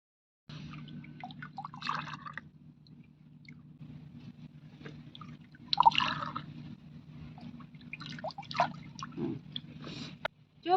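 Drumstick leaf soup is poured, with faint, close liquid splashes and drips in a few scattered bursts over a low steady background hum.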